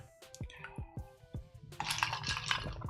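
Jack Daniels whiskey poured into a glass, with a few clinks and drips at first, then a bright, continuous splashing pour toward the end, close and fairly quiet.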